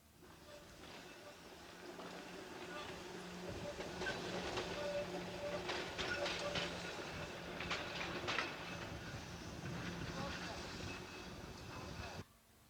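A Snaefell Mountain Railway train running on the Isle of Man, rattling and clattering along the track with rhythmic clicks and hiss over a rising and falling rumble, then cutting off abruptly.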